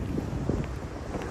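A light, warm breeze blows outdoors near a university campus on a hot day, heard as a steady, soft wind rumble buffeting the microphone throughout with no talking.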